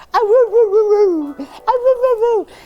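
A husky at an adoption show gives two long, wavering howl-like vocalizations, the first about a second and a half and the second slightly shorter after a brief pause, loud and close with no talking.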